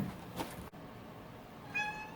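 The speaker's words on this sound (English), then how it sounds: "My cat wants to help." A house cat meowing nearby, one brief meow early on and a clearer tonal meow toward the end, over a quiet indoor background with no talk.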